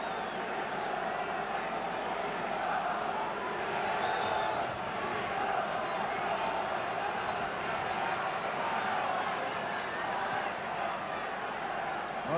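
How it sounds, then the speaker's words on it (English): Football crowd at a 1979/80 Crystal Palace versus Manchester United match jeering a player, a dense, steady roar of voices from a packed stadium, continuous and fairly distant throughout. "the crowd have been giving Jordan some stick from the very first kick of the game"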